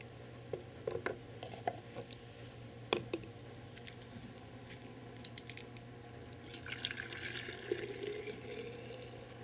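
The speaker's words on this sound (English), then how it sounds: "So now I need to fill my jars with my stock." Strained vegetable stock goes into glass canning jars: light clinks and taps come first, then a soft, steady trickle of liquid near the end, with no talking.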